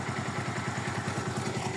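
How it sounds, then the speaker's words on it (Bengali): A motorcycle engine idles nearby with a steady, rapid throbbing pulse. "এই যে আরেকটা বাইক আছে।"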